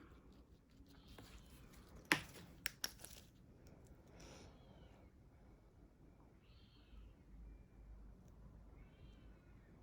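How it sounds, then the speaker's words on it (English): A kitten meows behind a shut door, faint and distant, with a couple of soft cries in the second half over quiet room hiss and a few sharp taps and clicks near the start. "If you can hear meowing, I'm not sure whether it'll pick it up on this video"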